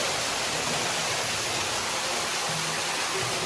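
A strong, steady rush of water pours out of a borewell continuously, a loud broadband gushing with no pauses.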